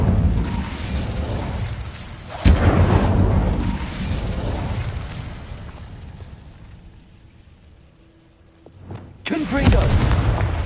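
Incendio fire spell blasts in the video game Hogwarts Legacy: loud booming whooshes with a sharp crack, a long rumbling roar that fades, then a fresh blast near the end.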